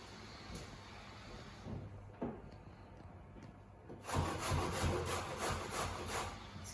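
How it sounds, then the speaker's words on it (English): Two zucchinis being grated on a kitchen grater: a steady rasping scrape that starts quietly, pauses briefly, then grows louder and continuous in close repeated strokes. "Next, we're going to grate two zucchinis."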